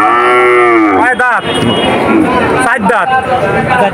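At a cow market in Moulladanga, Digalia, Khulna, cattle moo loudly and up close in long, drawn-out calls, with other animals and crowd murmur around them.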